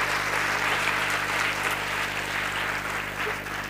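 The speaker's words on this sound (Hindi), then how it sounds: "जोरदार तालियां होनी चाहिए।" An audience at a motivational speech in Latur, Maharashtra breaks into applause, dense steady clapping that stays loud throughout with no voice on top.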